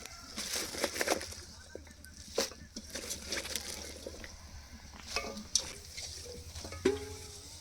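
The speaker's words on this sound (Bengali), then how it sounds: "সামান্য একটু জল দিয়ে পালং শাক আর আলু কষিয়ে নেব" Spinach and potatoes with a splash of water are stirred and sautéed in a pan: intermittent scraping and clattering strokes over a soft, steady sizzle, fairly close and uneven in rhythm.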